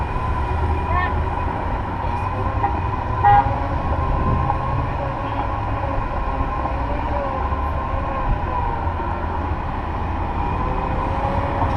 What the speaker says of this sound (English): Is that an alarm? Yeah, it's telling you somebody's coming out of the garage.